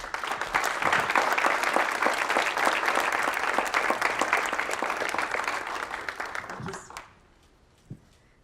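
An audience applauds to welcome the keynote speaker at a presentation, steady dense clapping for about seven seconds that then fades out quickly, followed by a brief quiet.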